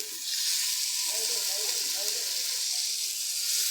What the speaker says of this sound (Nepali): अब पहिला चिकन चाहिँ फ्राई गर्नु पर्यो है।